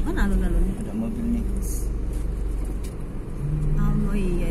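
A car passes on a city street in Cilegon, near the town square. A steady engine hum rises and falls under close conversation.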